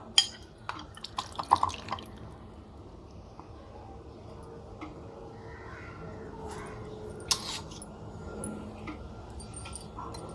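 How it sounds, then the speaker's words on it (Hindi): Sugar-soaked amla candy draining in a strainer, syrup dripping and splashing in quiet, irregular drops, a few sharper clinks early on, close by and soft over a low background hum. "अब हम इसे एक स्ट्रेनर में निकाल लेते हैं।"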